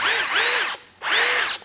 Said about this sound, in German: Du kannst jetzt also um die Ecke schrauben, aber auch um die Ecke bohren.